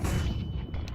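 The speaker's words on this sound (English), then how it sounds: "I'm throwing a flashbang." A flashbang grenade goes off in a first-person shooter game, a short heavy booming blast with a dull low rumble.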